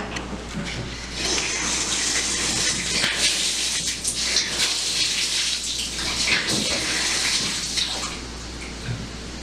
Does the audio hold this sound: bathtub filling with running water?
yes